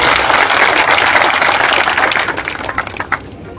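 Loud, dense applause from an audience at a village rally in Silarpuri, Rajasthan, sustained clapping close by that thins out toward the end.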